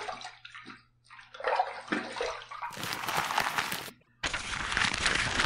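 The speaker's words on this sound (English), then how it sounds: "Let's rinse." Tap water runs in bursts into a sink while a safety razor is rinsed after a shave, starting and stopping with loud, close splashing and a brief pause near the end.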